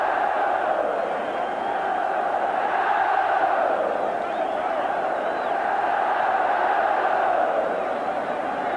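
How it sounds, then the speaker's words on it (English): A large stadium crowd at the 1988 Scottish Cup Final between Celtic and Dundee United cheers and roars continuously as the Celtic players come down, a loud, steady wall of voices with rising swells. "And down come the Celtic players, deservedly getting their individual cheer."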